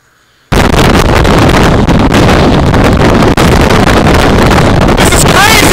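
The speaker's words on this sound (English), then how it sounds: "It was crazy windy." Strong wind gusts roar across an exposed mountain ridge in the Presidential Range, a loud, continuous buffeting blast against the microphone that starts abruptly and holds steady throughout.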